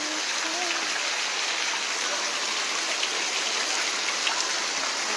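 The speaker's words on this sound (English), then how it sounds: "Look at the waterfall." A waterfall roars as a dense, constant broadband rush, loud and close, steady from start to finish with a faint voice barely surfacing early on.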